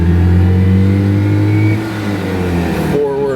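A Citroen 2CV's small engine drones steadily while driving, a loud, close mid-pitched hum that shifts down and changes tone as the car moves along, with someone speaking over it.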